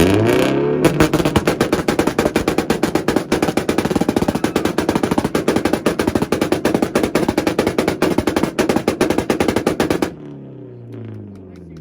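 Honda car revving on a 2-step launch limiter at a rev battle at IFO Ohio 2023: a loud, rapid machine-gun string of exhaust pops and bangs sustained for about ten seconds, then cutting off abruptly to quiet crowd ambience.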